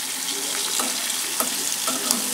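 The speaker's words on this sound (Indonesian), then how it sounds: "Kita goreng setengah matang saja." Fish frying in hot oil for ikan goreng, cooked half done before a second frying; a steady broadband sizzle with occasional sharper pops and crackles, close and continuous throughout.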